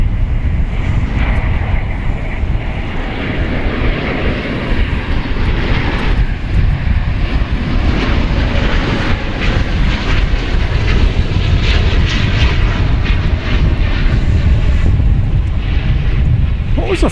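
Finnair jet airliner at DFW airport, a loud continuous engine roar with heavy wind noise over the microphone, steady for the whole stretch with no clear talking.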